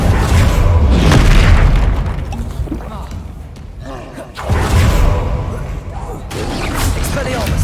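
The Confringo fire spell bursts in Hogwarts Legacy, with deep booming blasts and rumbling explosions that swell, dip and surge again, loud and close, while a voice shouts spell names over the combat.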